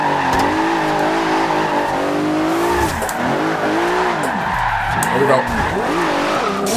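A 1,000-horsepower Nissan GT-R racing in Forza Horizon 2, its engine droning and revving close up while the tires squeal through skids, with someone talking briefly over it at the start.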